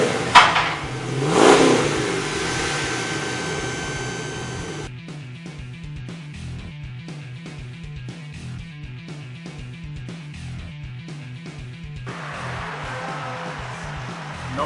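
A Chevrolet Camaro engine runs through a MagnaFlow exhaust with dual bullet mufflers, X-pipe and stainless steel extensions, giving a steady, rhythmic low burble at idle after an early rev, close and without speech.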